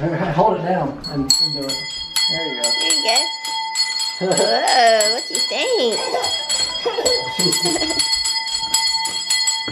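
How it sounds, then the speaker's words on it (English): A small hand bell, found at a grocery store, rings repeatedly in bright metallic bursts throughout, close and fairly loud, with people talking and laughing over it. "Ooh, let me see that bell."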